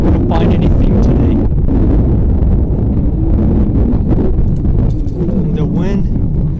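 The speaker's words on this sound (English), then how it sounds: "The wind is pretty bad" A strong wind storm buffets the microphone at an abandoned mine site, a loud, continuous roar of gusts with no letup, while a person talks through it.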